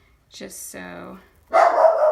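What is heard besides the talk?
dog barking outside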